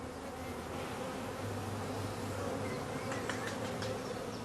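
Continuous dense buzzing of many honey bees swarming around colour-coded nucleus hives holding young queens and their colonies, close and steady with no pauses.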